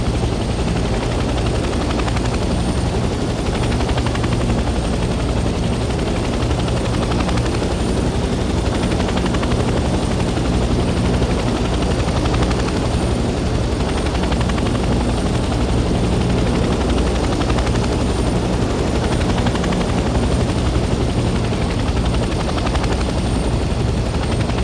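Helicopter hovering low over a landing area in the Vietnam-era game Hell Let Loose Vietnam, a loud, constant rotor and engine roar that holds steady throughout with no talking.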